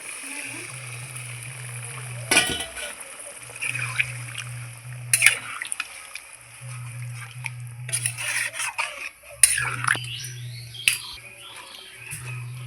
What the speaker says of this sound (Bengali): পনির ভিজানোর জলটাই দিয়ে দিচ্ছি আমি জলটা নষ্ট করব না